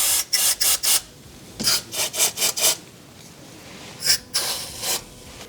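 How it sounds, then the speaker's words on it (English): A stiff brush scrubs rust off BMW E46 front suspension parts in quick bursts of back-and-forth strokes, close and harsh and grating, with short pauses between sets and no talking. "I'm going to start with just using a brush and agitating rust"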